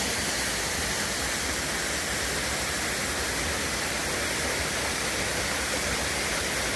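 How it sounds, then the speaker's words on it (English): Constant rushing water pours without pause from rocks, a dense, even hiss of small falls nearby on the Ramsey Cascades Trail in the Great Smoky Mountains, with no voices. "You can see all these little waterfalls up here coming out of the rocks."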